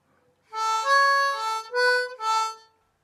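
Single notes on a harmonica play a riff, several sustained reedy tones in a short phrase with brief breaks between them, close and clear with no talking.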